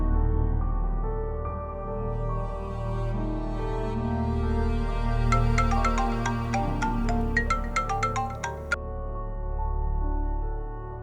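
A phone ringtone plays steadily throughout, a sustained melodic tone with a run of brighter chiming pulses in the middle, close and fairly loud with no talk over it.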